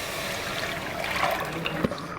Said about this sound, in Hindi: पानी से आपने अच्छी तरह दाल को धोना है